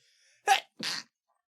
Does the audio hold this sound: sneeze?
yes